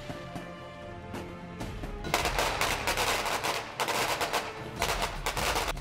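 Fireworks and firecrackers at a New Year celebration, dense rapid crackling bursts popping in clusters, fairly distant, with no talking.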